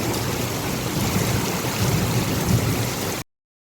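Hail and heavy rain pour down steadily in a dense, even roar that stays loud and close from start to finish, with no voices, then stop abruptly.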